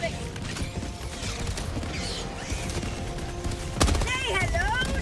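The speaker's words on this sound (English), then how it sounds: "Placed a sentry on top of this rock. It will shoot down the slope as well" Sentry gun in Helldivers 2 firing down a slope at Terminids during a co-op Super Helldive mission, a busy stream of mechanical clatter and gunfire under game ambience, with a louder burst near the end.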